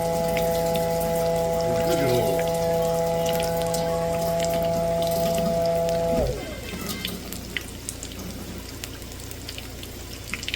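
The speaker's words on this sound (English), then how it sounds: "I'm gonna rinse off my tongs here so I don't get all that nastiness." Running water rinsing cooking tongs, a steady splashing hiss with a droning hum underneath that cuts off partway, leaving a softer patter of water and small drips.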